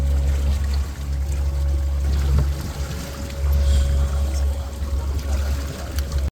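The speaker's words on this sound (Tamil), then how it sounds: "boat engine" A tourist boat's engine drones steadily with a deep, constant low rumble and a faint hum, accompanied by light water splashing and trickling throughout.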